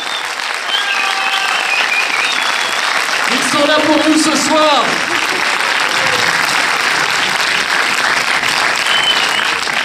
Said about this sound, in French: Suivi de Tarek Boudali, on les applaudit bien fort